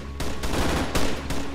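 Minimi machine gun firing in ArmA 3, short loud bursts of rapid automatic shots in a few clustered volleys, close and sharp with no talk over them.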